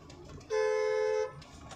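A car horn sounds once in a single steady honk lasting under a second, loud and close, against quiet road background while driving on a single-lane road.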